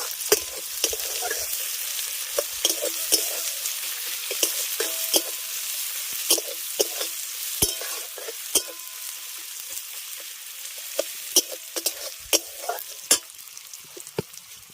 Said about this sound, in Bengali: তেলের মধ্যেই দিয়ে দিচ্ছি কুচনো পেঁয়াজ আর কাঁচা লঙ্কা এবার পেঁয়াজটাকে আগে ভেজে নেবো